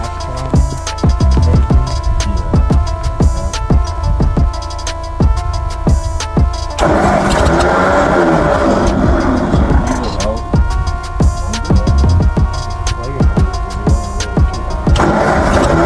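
A tractor engine cranks and catches, then runs with a steady throbbing idle that stays loud and close throughout, with brief talk in the background.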